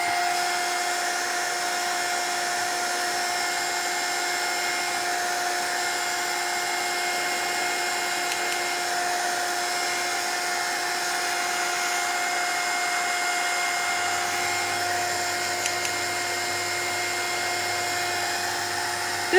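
A handheld drying tool blows over a mixed-media scrapbook layout, a steady high-pitched motor whine with airflow hiss that holds at an even, close level throughout.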